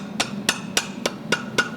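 A blacksmith's hammer strikes hot metal on an anvil in six evenly spaced, close, ringing blows, each about a quarter second apart.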